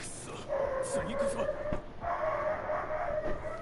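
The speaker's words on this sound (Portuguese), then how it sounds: "Agora o cachorro resolve fazer barulho na janela." A dog barks and yips at a window indoors, short sharp calls over a steady background hum, while a person talks nearby.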